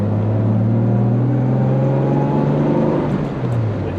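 A 1968 Jaguar S1.5 E-Type coupe, straight-six engine pulling steadily in fourth gear, gives a loud, close, continuous engine drone with strong low harmonics that hold steady and ease slightly near the end, heard alone without talk.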